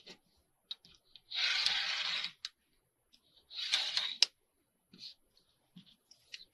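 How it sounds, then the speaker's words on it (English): Scissors cutting the branding strip off a paper bag: two sustained rustling, crisp cutting passes of paper, close and quiet, separated by small clicks and handling noises. "I'm gonna cut off the branding strip."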